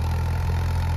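A Ford 3600 tractor engine runs at a steady idle, a close, loud, even low rumble with a throbbing pulse and no voices.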